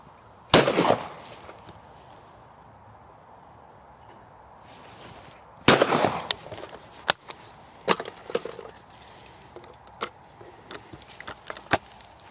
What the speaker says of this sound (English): Let's shoot it and let's see what it shoots like.